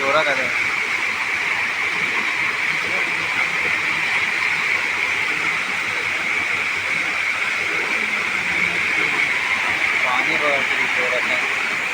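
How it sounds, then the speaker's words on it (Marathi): Loud, constant roar of a flooded river's fast-flowing water fills the air, a dense unbroken rush with a voice faintly audible beneath it. "अफाट पाणी आलं नदीला"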